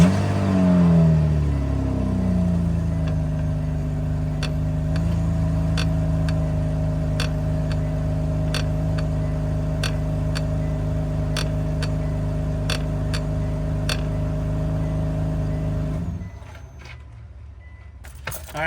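Sharp, evenly spaced clicks come from the rear brake caliper of a 2006 Hyundai Tucson 2.7L each time the brake is pressed. They repeat over a steady, close engine idle hum, which cuts off abruptly near the end.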